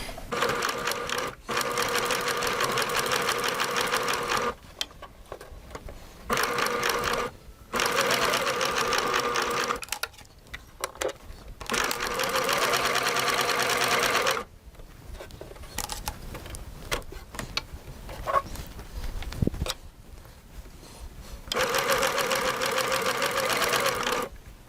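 A Baby Lock sewing machine stitches ribbon with thread in a rapid, steady mechanical whir, running in several bursts of a few seconds each, separated by short pauses and small clicks.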